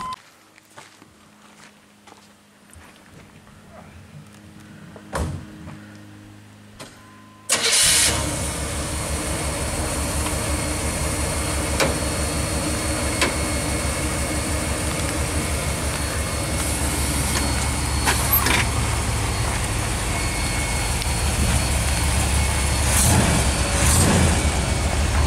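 Quiet stillness gives way to a sudden start of a 1980 Chevrolet Corvette's 350 V8 with a three-speed automatic, then a loud, steady idle rumbles on close by for the remaining twenty seconds.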